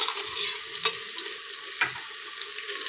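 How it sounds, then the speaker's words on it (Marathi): Spice paste for paneer biryani sautéing in a pan, a soft steady frying hiss with two brief stirring scrapes, close and alone without talk. "आता ही पेस्ट 2 मिनिट परतून घ्यायची आहे."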